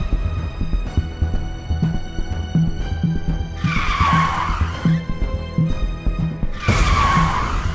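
A car speeding up to overtake on a road, engine running steadily under two loud bursts of skidding tire squeal, the second cutting in near the end, with no voices heard.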